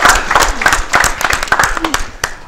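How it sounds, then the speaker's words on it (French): A studio audience on a Saturday variety show claps for a guest in a brief, uneven burst, with distinct individual claps under voices and background music. "On applaudit pour lui."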